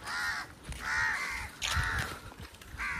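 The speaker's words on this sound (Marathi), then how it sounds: "कावळ्यांची संख्या जरा जास्त दिसते." Crows in a coastal village near Alibag give three or four harsh caws in a steady rhythm. The calls are moderately loud against a quiet background, and nobody speaks.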